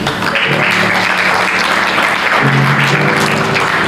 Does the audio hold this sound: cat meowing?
no